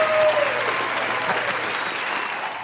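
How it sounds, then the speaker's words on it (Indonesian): Audience applause fills the room at an Indonesian contest winners' gathering, steady clapping that starts strong and slowly tapers off, with a brief voice heard early on. "Kasih aplaus dong."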